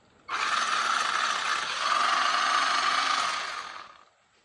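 A Haiboxing DUEL 4x4 RC monster truck runs at full speed, its electric motor and gears giving a steady high-pitched whine that starts abruptly, holds for several seconds, then fades away.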